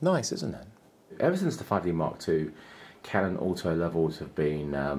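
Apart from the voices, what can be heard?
No distinct noise like a dog, phone or traffic.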